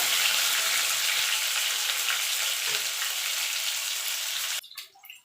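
Potato and pumpkin stir-fry in hot oil with a loud, steady close sizzle for a vegetarian puishak chorchori; the sizzle cuts off abruptly near the end, leaving a few soft clinks.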